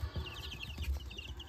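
Faint, rapid peeping of barnyard-mix chicks and heritage turkey poults in a brooder, soft high chirps layered over a dull low hum.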